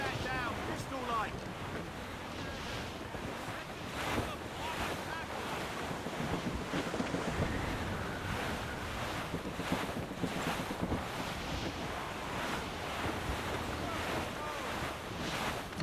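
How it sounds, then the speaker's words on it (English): In Assassin's Creed Rogue, wind and waves rush steadily around a sailing ship at sea, a continuous loud roar of surf and gusts with faint voices of the crew. "That wind's trouble, Captain Cormac."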